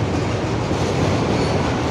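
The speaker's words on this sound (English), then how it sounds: "This train is looking good again because there's the double stacks right there coming up." A double-stack freight train rolls steadily past at close range, a loud continuous rumble of wheels on rails with clickety-clack texture and no pauses or voices.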